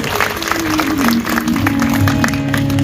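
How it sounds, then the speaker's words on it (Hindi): A crowd applauds steadily to welcome guests at a Bhagwat kalash yatra religious procession in Gundaha, Bhander area. Dense clapping continues throughout, with sustained musical tones and a few voices underneath. "ताली बजाने की स्वागत।"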